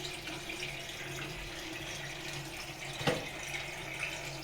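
Water flows into a newly installed copper plumbing circuit in an apartment as it fills, making a faint, steady hiss with one brief knock partway through.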